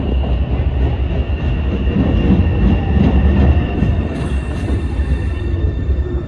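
A subway train rumbles steadily with a loud low roar and faint high squeal, continuous throughout with no voices.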